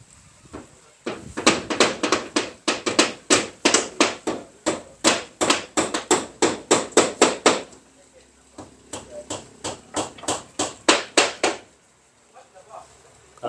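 Rapid, sharp hammer blows in two long runs of steady strikes, with a short pause between them, fairly close and loud.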